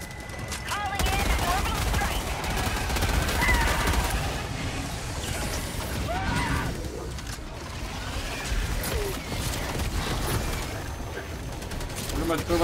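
Rapid assault rifle bursts from a Liberator in Helldivers 2, loud and dense, layered with explosions and chaotic battle noise throughout, with voices talking over the din.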